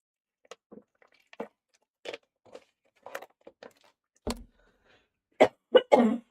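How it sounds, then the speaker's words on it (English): A series of short, dry coughs and throat-clearing bursts, scattered at first, then a tight cluster of louder coughs near the end, close to the listener. "I hate this cough, it just won't go away."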